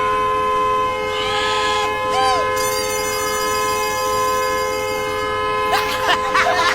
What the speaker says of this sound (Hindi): ये हॉर्न बंद करवा दीजिए ना